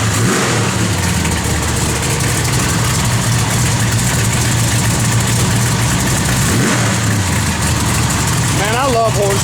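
A 1972 Chevrolet Chevelle SS V8 rumbles loudly and continuously at idle with a deep throbbing note, swelling slightly as it revs, while a voice talks near the end.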